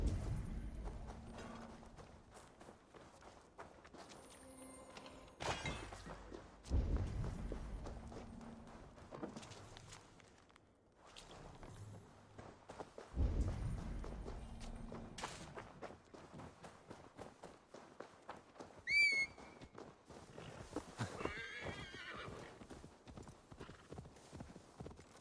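Horse hooves clip-clop in Assassin's Creed Valhalla, a steady walking rhythm in repeated bursts across the clip, with a brief whinny and game effects mixed in and no talking.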